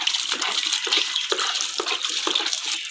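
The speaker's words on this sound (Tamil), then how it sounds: "இங்கெல்லாம் பாருங்கள், செடிக்கெல்லாம் தண்ணி ஊற்றிக்கிட்டு இருக்காங்க." Water splashes and gushes steadily as plants are watered outdoors in a home garden, a loud continuous pour with small splattering bursts and no talk.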